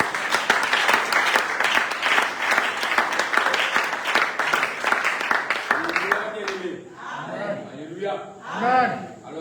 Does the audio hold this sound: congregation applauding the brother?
yes